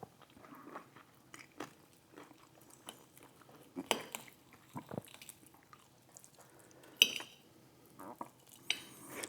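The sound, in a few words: eating Wingstop hot honey chicken wings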